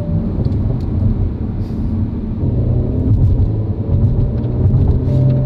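An Audi RS4 with automatic gearbox pulls at half throttle on a sunny Spanish road, a steady loud rumble of engine and road noise with slight rises and dips as gears change, no voices.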